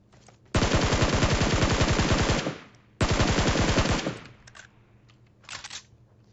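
Automatic gunfire in the shooter game PUBG Mobile aimed at a big rock: two long, loud rapid-fire bursts of rattling shots, the second shorter, followed by a few faint distant shots, with no talking.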